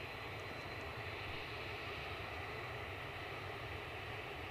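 A Ryanair jet at Edinburgh Airport, its engine roar steady and broadband throughout, fairly distant and constant with no voices.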